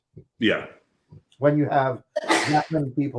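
A single sharp sneeze bursts out partway through steady conversational talk, close and loud.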